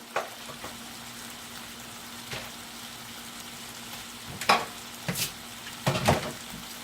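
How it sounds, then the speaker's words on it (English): Whiting fish frying in oil with a steady sizzle, punctuated by a few louder crackling bursts and clinks near the end, up close without speech. "I'm frying whiting."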